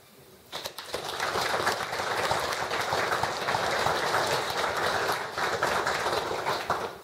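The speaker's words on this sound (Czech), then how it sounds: "V tuhle chvíli ten potlesk bude na místě." A graduation ceremony audience bursts into sustained, dense applause for the successful graduates, many hands clapping at once and holding steady for several seconds.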